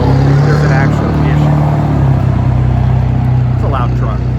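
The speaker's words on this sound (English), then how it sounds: "It's a loud truck, very loud truck, loud mufflers." A very loud truck with loud mufflers passes, its deep steady engine drone running strong throughout, with faint voices in the background.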